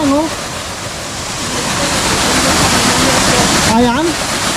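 Asik-Asik Falls in Alamada, North Cotabato, roars as a dense, loud, continuous wash of falling water, with a person talking over it at the start and again near the end.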